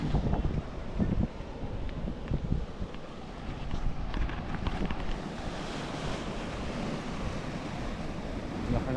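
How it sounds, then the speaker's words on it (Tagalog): Steady wind buffets the microphone while waves wash and churn continuously nearby, a constant rough roar throughout. "Laki ng alon."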